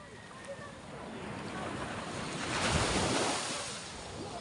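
Sea waves washing onto a seashore, a broad, steady hiss of surf with a gentle swell building toward the middle, mixed with some wind noise.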